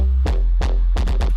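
An uncompressed synth bass plays a short riff of deep, sustained bass notes, about five hits with a quick double near the end, loud and up front without any talking.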